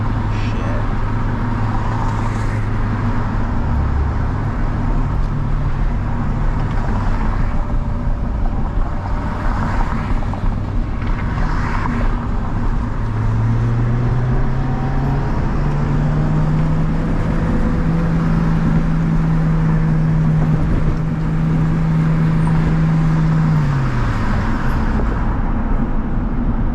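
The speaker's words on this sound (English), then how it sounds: "Man, too much traffic." A 2002 Acura RSX creeps through heavy traffic, its engine a steady low drone inside the cabin that climbs in pitch midway and then settles, with road noise underneath throughout.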